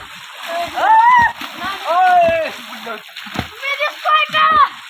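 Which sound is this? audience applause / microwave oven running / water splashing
water splashing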